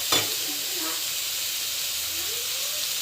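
Ginger garlic paste sizzling in a hot pan as it is sautéed, a steady broadband hiss and crackle running throughout, with a brief stir or clink at the start and no talk.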